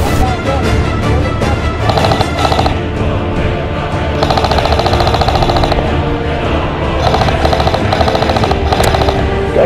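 Airsoft guns fire in a skirmish at a ghost-town field, loud and continuous, with rapid full-auto bursts rattling over one another throughout.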